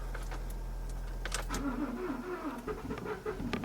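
A Ford F-150 pickup truck engine cranks and catches, then idles unevenly with a rough, wavering note, heard close up and fairly quiet, with no talking.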